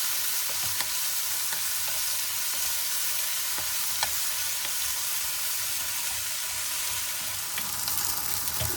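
Hotdog slices frying for a simple spaghetti dish, a loud, steady hiss and crackle of hot oil filling the whole stretch, with occasional small pops and stirring scrapes.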